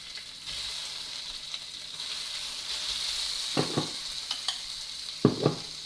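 Chicken and shrimp frying in a pan for noodles, a steady close sizzle with a few sharp scraping knocks of stirring near the end, no talk.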